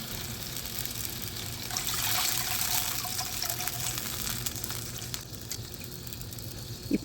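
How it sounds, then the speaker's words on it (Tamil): Strained tamarind water, soaked tamarind dissolved in about 500 ml of water, poured into a pot of ripe mango sambar, giving a steady close gushing splash that runs alone for several seconds. "இப்போ நாம் ஊற வச்ச புளியை ஒரு 500 ml தண்ணியில் நாம் கரைச்சி அதில் வடிகட்டி ஊற்றிக்கலாம்."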